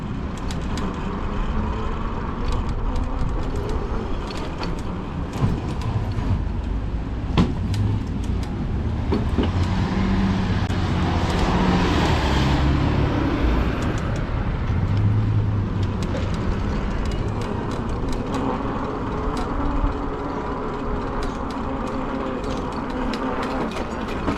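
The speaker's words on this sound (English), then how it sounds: "Everybody and their brother is out there cruising around in the cars along the avenue." Steady road traffic from cars cruising along a busy avenue, a continuous rumble of passing engines and tires with occasional louder vehicles, heard from an e-bike ride with constant wind and road noise throughout.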